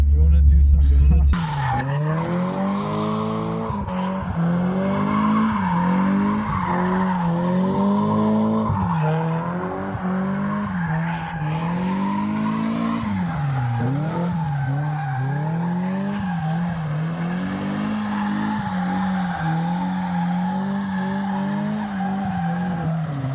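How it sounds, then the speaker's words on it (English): Car doing donuts, its tires skidding and squealing continuously at close range with a wavering engine note, the rubber screech rising and falling in steady swoops throughout. "You want to do some donuts?"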